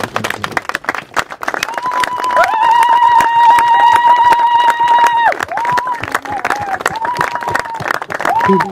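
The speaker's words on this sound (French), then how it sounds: "nous voulons lui rendre un dernier hommage à Maman Céline en l'acclamant une dernière fois" A funeral congregation breaks into loud, dense applause that fills the space close by. Sustained singing or vocal tones rise over the clapping through the middle of the passage.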